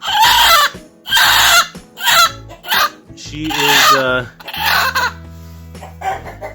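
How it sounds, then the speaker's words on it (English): A broody hen clucks and growls in short, agitated bursts up close, with a person briefly talking alongside. "we got a broody hen"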